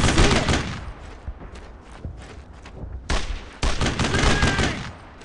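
Rapid bursts of gunfire crackle through a World War II firefight in Brothers in Arms: Road to Hill 30, loud and close, with dense volleys, a brief lull, then heavier sustained shooting.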